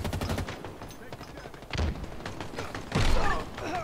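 Gunfire in the video game Halo Infinite during a multiplayer tech test: repeated sharp shots and heavier thumping bursts over busy game noise, loudest near the end.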